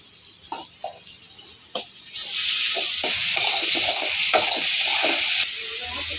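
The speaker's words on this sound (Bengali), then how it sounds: "তো পেঁয়াজ আলুটিকে ভাজে নিতেছে।" Onion and potato frying in a pan with oil, a steady loud sizzle that swells after a couple of seconds and holds, with stirring scrapes and clinks throughout and no talk.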